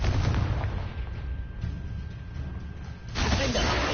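A fiery Confringo spell blast in Hogwarts Legacy, a dense, loud burst of rumbling fire and explosion noise that sustains through the clip, dips briefly, then surges again near the end.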